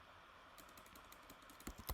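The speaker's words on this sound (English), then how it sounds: "if you just type like kubectl get" Fast, light keystrokes on a computer keyboard as a kubectl command is typed into a terminal, a quiet close run of irregular clicks that grows denser and ends in a couple of firmer taps.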